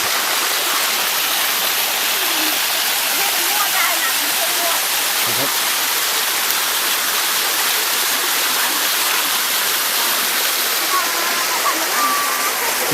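Waterfall at Chanta Then, a loud, steady roar of rushing water that fills the whole stretch, with faint voices underneath.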